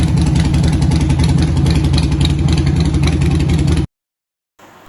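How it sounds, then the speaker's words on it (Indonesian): Harley Davidson 1200 cc motorcycle from 2020 idling in Banda Aceh, a steady loud low rumble with a fast even throb that stops abruptly near the end. "Dijual satu unit motor Harley Davidson posisi Banda Aceh tahun 2020, kapasitas mesin 1200 cc"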